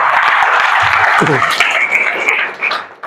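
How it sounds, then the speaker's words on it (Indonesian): An audience in a health ethics lecture claps in a dense, sustained burst of applause that swells and then trails off, with a voice speaking over it. "Kita berikan aplaus dulu"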